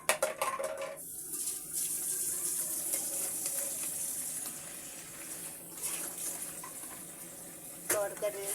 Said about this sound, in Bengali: তরকারির ঝোলটা ফুটে উঠেছে